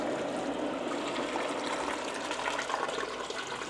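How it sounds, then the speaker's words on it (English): Water pours steadily into a cooking pot, a continuous close splashing and gurgling rush without pause and no speech over it. "in the pot, I'm going to add water."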